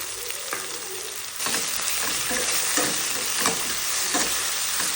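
Onions and tomatoes sizzle steadily in a hot pan, with occasional stirring scrapes and a brief jump in loudness as the frying intensifies.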